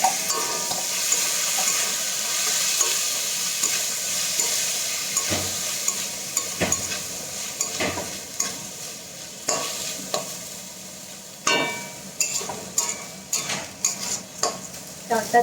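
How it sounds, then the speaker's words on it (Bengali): Rice for pulao is stir-fried in a pan with other ingredients, a steady sizzle under repeated scraping stirs that become sharper and more frequent toward the end. "চালটা দিয়ে ভালো করে একটু ভেজে নিতে হবে"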